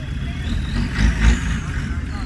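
A vintage car engine rumbles steadily at close range at an outdoor vintage vehicle show, a low throaty drone with slight swells in loudness, over outdoor background noise.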